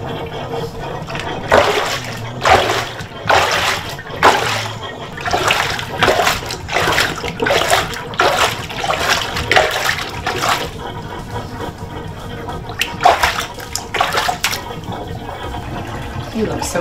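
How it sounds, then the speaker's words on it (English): Bathtub draining while soap is rinsed off senior pugs: running water splashes in repeated bursts over a steady gurgling drain, close and fairly loud. "I'm going to unplug the tub and let it drain and just try and rinse off the soap from their legs as it empties."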